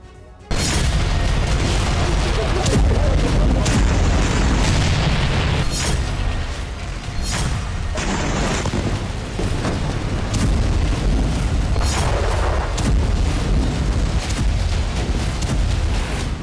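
Heavy explosions from Israeli bombing strikes, a dense sequence of loud booms and blasts with rumbling aftermath, repeated bursts throughout and continuous low roar between impacts.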